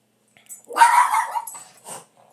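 A dog barks with a single drawn-out, yelping bark followed by a shorter yip, close and loud with nothing else around it.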